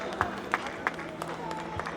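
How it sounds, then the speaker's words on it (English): Audience applause rises at a children's annual school concert as a young recitation-competition winner is welcomed, a continuous crowd clapping with a few sharper claps standing out above the wash. "Please welcome him with a huge round of applause"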